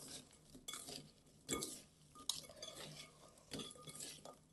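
Pretzels being stirred with white chocolate Oreo powder in a bowl, giving soft scraping and light clinks of a utensil in irregular strokes, close and fairly quiet, with no talking.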